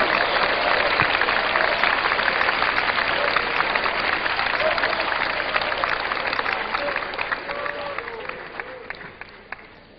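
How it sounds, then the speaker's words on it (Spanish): Congregation clapping and applauding during a Spanish-language church service, a dense, loud wash of hands that thins and fades toward the end. "¡Dele palmas a Jesús! ¡Dele palmas a Cristo!"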